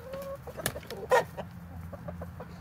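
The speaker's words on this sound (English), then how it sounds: "Oh, that's a pretty rooster." Rooster clucks in short bursts, nearby, with light farmyard background and no speech.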